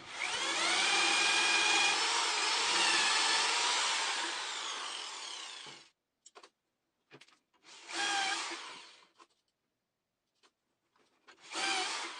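A power drill whines loudly into wood, drilling dowel holes with a depth-stopped bit and jig, for several seconds, then shorter bursts of drilling follow with quiet gaps between them.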